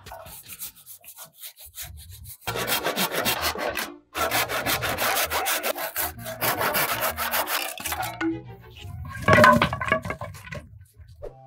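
A hand saw with its blade greased with lard cuts through wood for a wooden sawhorse, giving rhythmic rasping strokes in several bursts separated by short pauses, close and fairly loud.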